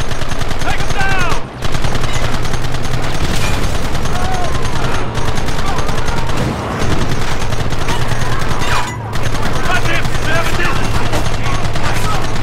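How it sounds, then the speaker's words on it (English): Rapid gunfire from a firefight against enemies hiding behind rocks in the video game Red Dead Redemption, loud dense bursts of automatic and single shots continuing almost without pause, with brief gaps and occasional voices. "Gun them down."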